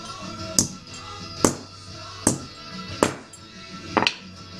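A hammer strikes a bent steel bracket on an RX-7 oil cooler mount, five sharp metallic blows at roughly steady intervals just under a second apart, close and loud with no talk.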